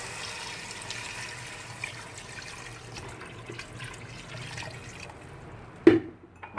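Water is poured into a cooking pot while hareesa is being prepared, a low, soft liquid wash that ends with a sharp splash or clunk near the end.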